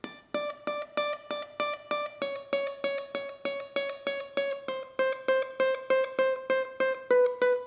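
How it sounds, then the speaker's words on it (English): Single notes on a ukulele's fourth string trace a slow descending line, each note plucked cleanly in an even beat with sustained ringing tones, close and alone. "If you were just to isolate the fourth string of those chords, it would sound like this."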